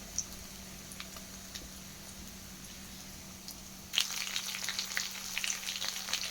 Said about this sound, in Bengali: ফার্স্টে চিকেনগুলোকে সব ফ্রাই করে নিচ্ছি